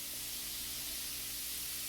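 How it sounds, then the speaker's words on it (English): Raw meat sizzling in a hot pan, a dense, steady hiss of frying heard up close with no talking. "You can hear it sizzle."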